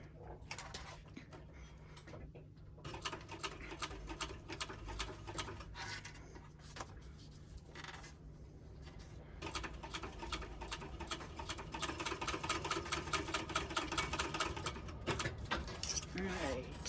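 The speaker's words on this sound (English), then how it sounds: "we're going to stitch it 3/8 of an inch across," A sewing machine stitches a 3/8-inch seam across the short end of a fabric Atlantis pouch, its needle ticking in rapid bursts that pause and then speed up into a busier, louder run.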